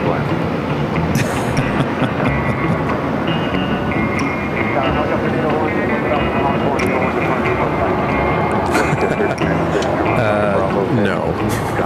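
At Phoenix Sky Harbor, runway 26, a loud, continuous roar of aircraft engines fills the whole stretch, with a tower radio voice and a person talking over it.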